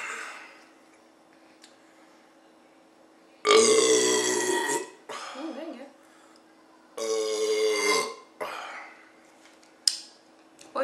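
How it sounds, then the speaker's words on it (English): Two loud, rough burps, each lasting over a second, break through a quiet room during a casual drinking session, with some lighter throaty sounds in between. "Because you got a good burp."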